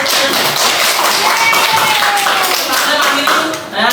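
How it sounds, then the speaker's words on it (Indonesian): A classroom of students clapping hands in a lesson, a loud, dense patter of many claps running the whole time, with voices mixed in underneath. "Berikan tepuk tangan untuk kita"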